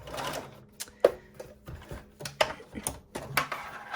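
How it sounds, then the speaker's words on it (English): Sewing machine stitching elastic together for a scrunchie, close rapid mechanical clatter in short bursts with pauses as it runs forward and back. "we're just going to sew forwards and backwards a couple times to really make sure that elastic is joined together"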